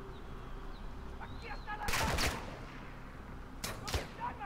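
Gunfire in Call of Duty Modern Warfare 2 rings out in two loud bursts of rapid shots, the first longer, over a low ambient rumble of battle with faint distant sounds between.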